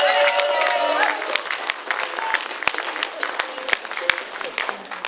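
An audience claps along with a sung folk song, with sharp, scattered hand claps over a sustained singing voice and light crowd noise throughout.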